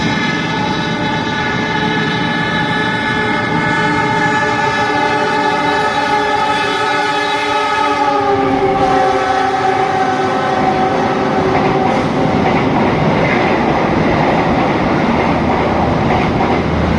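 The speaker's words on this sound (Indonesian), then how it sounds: "Kita tunggu kereta yang lewat ya." A Kertajaya passenger train rumbles loudly past up close at night in Surabaya, its horn sounding long and strong before fading into the roar of wheels and carriages rolling by.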